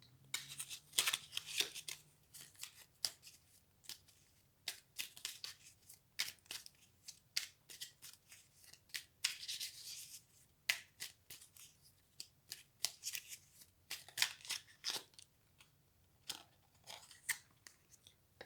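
Oracle cards are shuffled in a quiet room, giving a long run of soft, fast papery riffles and flicks. The bursts come in uneven clusters, close and faint, with no voices.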